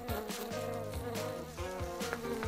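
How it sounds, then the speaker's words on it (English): Bees drawn to a honey-scented bubble bath buzz continuously and close by, a steady droning hum with small rises and dips and no talking. "Ah, bees are here. They're buzzing."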